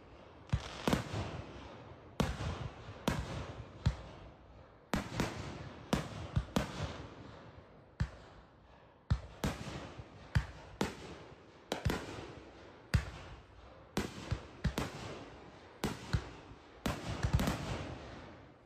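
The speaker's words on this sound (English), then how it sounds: "a stunning fireworks display in Chiba organized by BACK HOBI" Fireworks burst at a birthday celebration display in Chiba, Japan, a dense series of sharp distant bangs and crackles in irregular clusters, with rumbling echoes between them.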